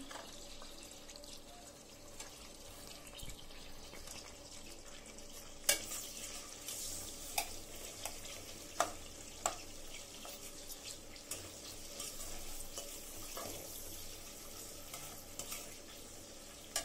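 Onion, garlic and green chilies fry in oil in a cooking pot at low level, a soft continuous sizzle broken by several sharp clinks and scrapes of a spoon against the pot; no speech.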